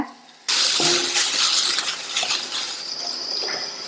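One cup of grated coconut is dry-roasted in a pan and stirred, starting suddenly with a dry, close rustling scrape and light clinks that keep going steadily, gradually easing off.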